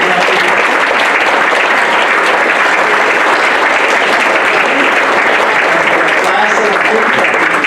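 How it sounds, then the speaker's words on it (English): At a high school Hall of Fame induction ceremony, a crowd delivers loud, unbroken applause for the inductees, the dense clapping holding steady for several seconds. "Let's have one more round of applause for all of you"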